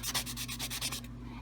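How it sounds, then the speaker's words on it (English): A sanding block lightly scuffs a plastic phone charger in quick, even back-and-forth strokes, close up and fairly quiet, with no talking. "and we're just gonna lightly sand. See, just enough to scuff it up."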